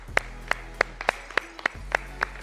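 A few people clap after a school quiz match between two high-school teams, slow, separate handclaps close by, about ten over a couple of seconds, with a low hum underneath.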